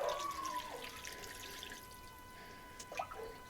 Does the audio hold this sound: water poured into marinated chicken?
yes